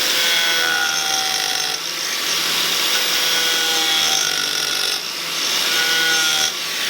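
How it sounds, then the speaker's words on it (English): An ArborTech Turbo Plane carving wood, a steady loud abrasive rasping whir that holds for about seven seconds, dipping briefly twice as the cutter lifts off the surface, with no voices. "let's see how she does against ArborTech Turbo Plane"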